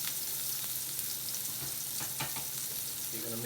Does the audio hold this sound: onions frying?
yes